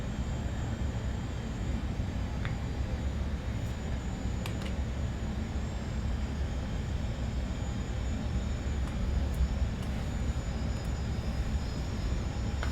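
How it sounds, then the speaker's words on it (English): An Airbus A400M turboprop engine starts and runs up on the ground, heard as a steady, dense low roar that holds level throughout, with a faint high whine above it and no voices. "Okay, number 2 is running up."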